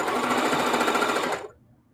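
A sewing machine stitches a 13 by 30 table runner in a rapid, even needle clatter for about a second and a half, then stops abruptly.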